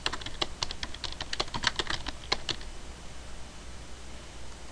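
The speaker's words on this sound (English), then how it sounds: "and type our description." Rapid keystrokes on a computer keyboard while typing a description, a close burst of crisp clicks for about two and a half seconds, then quiet.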